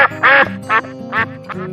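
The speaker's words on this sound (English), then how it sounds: "duck." A duck quacks about five times in a lively, uneven series, loud and close, with nothing else around it.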